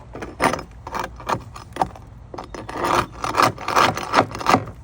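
A hand scraper rasps barnacles off a boat hull in a series of quick, uneven scraping strokes with gritty bursts, close and fairly loud.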